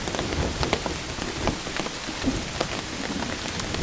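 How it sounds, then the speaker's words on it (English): Steady rain drums on a cheap Underwood Aggregator trekking pole tent, a dense close patter with scattered louder drops throughout, no voices. "I'm going to wait for the rain to slack off"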